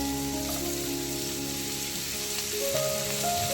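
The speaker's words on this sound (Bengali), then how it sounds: "একটু ফ্রাই হয়ে গেছে রসুন কুচি, এবার এর মধ্যে দিয়ে দেব পেঁয়াজ কুচি দিয়ে দিলাম।" Chopped onion tossed into garlic already frying in oil, a close, steady sizzle with crackling pops throughout, loud and continuous with no voices.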